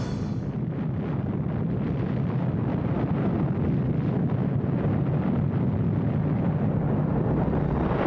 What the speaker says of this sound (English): On the 16th of July, 1945, a bomb exploded in the American desert.